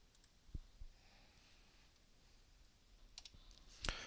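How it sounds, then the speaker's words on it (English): Mouse clicks while running a portlet project on a server in a development environment, a few sharp faint clicks scattered over quiet room tone, with a brighter click near the end. "I'm just going to right-click on my multi-mode portlet project and say Run on Server."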